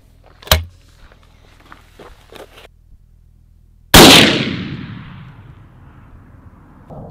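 A TC Encore muzzleloader rifle loaded with Blackhorn powder fires one sharp, loud report for long-range shooting, and the blast rings out and fades slowly. A small click comes a few seconds before it.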